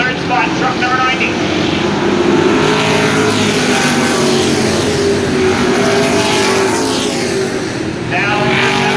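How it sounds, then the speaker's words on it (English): Pro trucks race around a short track at an October event, engines roaring loudly and continuously as they pass, with an announcer calling the action over the noise. "Top 2 trying to break away now from your point leader, Alan Coates, who sits in the 3rd spot"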